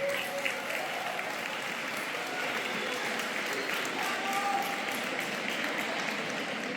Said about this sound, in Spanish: Pido un aplauso, por favor, para este panel.